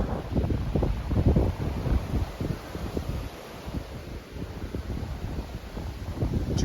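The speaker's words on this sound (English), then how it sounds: "And there's that wind I was telling you about." Wind gusting on a mountain trail on Mt. Princeton in Colorado, a rough, buffeting roar against the microphone that swells and eases in uneven gusts, loud and close, with no talking.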